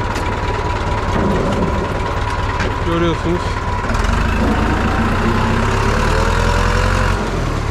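A tractor engine runs at a steady idle, a low continuous drone that stays close and even throughout while someone talks over it.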